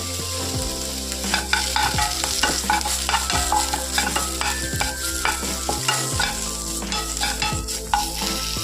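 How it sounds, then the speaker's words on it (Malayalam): Curry leaves roasting in a pan for a Kerala curry, a loud continuous sizzle and crackle with repeated stirring scrapes throughout, close and without speech. "ഞാൻ കുറച്ച് കറിവേപ്പില എടുത്ത് വെച്ചിട്ടുണ്ട്, അതും കൂടെ ഇട്ട് കൊടുക്കുവാണ്. അത് നമുക്ക് ഒന്ന് റോസ്റ്റ് ചെയ്തെടുക്കാം"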